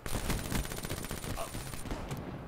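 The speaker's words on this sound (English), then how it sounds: "Shot me with the Drakon." Sniper fire from the Drakon rifle in Black Ops 3, heard as a dense, loud burst of gunshots and impacts packed into a couple of seconds with no talk over it.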